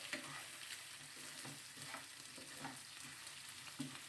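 Chicken frying with ginger and garlic in a pan, a steady sizzle with regular scraping stir strokes throughout, close and moderately loud, no talking.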